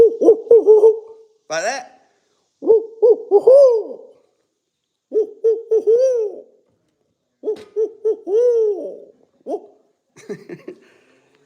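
A man imitates the owl call used in turkey hunting, giving several bursts of hooting, warbling vocal owl calls in a loose rhythm, close and loud, with short pauses between groups and a brief spoken question at the start.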